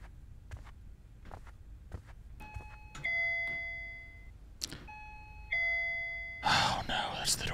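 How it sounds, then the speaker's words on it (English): A two-tone doorbell chimes twice inside a horror video game, each ding-dong ringing clearly over quiet background with faint footsteps and clicks, followed by a burst of noisy rustle at the end. "That's literally the doorbell."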